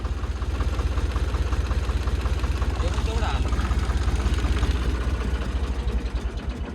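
A tractor engine runs steadily nearby, a continuous loud, low throbbing rumble with an even beat that holds for the whole stretch without pause.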